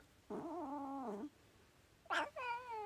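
A cat meows twice, a long wavering meow followed by a short sharp one, close and clear against a quiet room.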